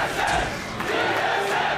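A large esports arena crowd at a League of Legends match between NME and TSM roars and cheers continuously, a dense wash of many voices swelling and ebbing throughout.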